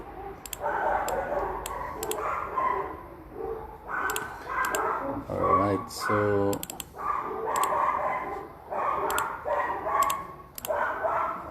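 Neighbors' dogs bark in short repeated bursts partway through, in the background under someone talking and the clicking of typing on a computer keyboard.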